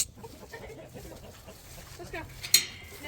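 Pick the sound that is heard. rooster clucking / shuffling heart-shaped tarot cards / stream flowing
rooster clucking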